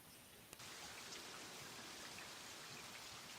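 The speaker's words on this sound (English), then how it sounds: "Sounds like the rain. Here's the rain." Steady rain falls in a continuous hiss of dense droplets, preceded by a brief click, with no voices present.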